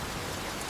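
Rain falls steadily as a soft, even hiss that fills the short moment with no other sounds.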